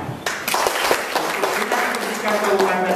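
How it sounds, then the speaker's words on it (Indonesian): An audience at a teachers' gathering and coordinator inauguration breaks into applause, a burst of clapping mixed with overlapping voices and crowd murmur throughout. "Tepuk tangan."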